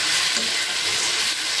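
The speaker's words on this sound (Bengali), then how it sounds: "একদম মশলা দিয়ে ভাজা ভাজা করে নিয়েছি সবজিগুলোকে।" Vegetables fry with spices in a pan for a dried Bombay duck curry, stirred as they cook. The loud, steady sizzle and hiss stays close and even, with no voices.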